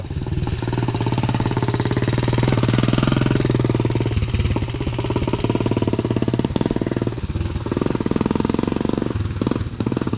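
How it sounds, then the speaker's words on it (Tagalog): Skylab habal-habal motorcycles, extended long-seat passenger bikes, run steadily close by on a mountain road, a loud continuous rattling engine drone that rises and falls slightly over the whole stretch. "Yun ang mga motor dito, Skylab eh."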